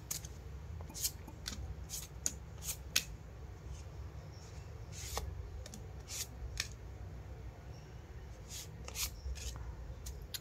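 Tarot cards being shuffled by hand, soft repeated riffles and crisp card snaps spread across the clip, quiet and close over a low background hum.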